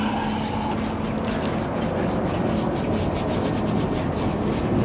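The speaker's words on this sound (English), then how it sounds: "we're just going to use our short reach brush just to give the tyre a" A short-reach brush scrubs a car tyre in quick rhythmic back-and-forth strokes, a dense close bristly rubbing that repeats steadily and continuously without talk.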